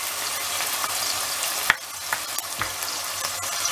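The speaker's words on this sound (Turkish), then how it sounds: "Şimdi bunları bir güzel kavuruyoruz arkadaşlar." Onions sizzle steadily in a frying pan, with a close, continuous crackle broken by a few sharp stirring clicks and scrapes and no voices.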